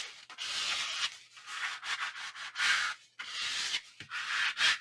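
Glued paper being burnished down onto a 10 x 10 album, repeated close rubbing strokes with a dry scratchy sanding texture, each stroke a second or so, broken by short pauses.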